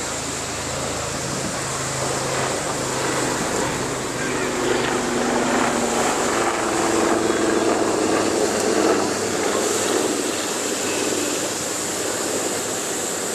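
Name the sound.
drone flying at airshow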